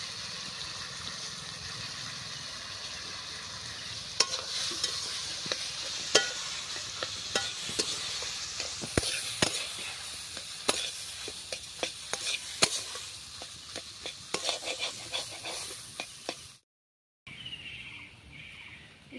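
Boiled potatoes with salt and spices are stirred in a hot pan. A spatula scrapes and taps in irregular strokes over a constant low sizzle, and the sound stops abruptly near the end, with no speech.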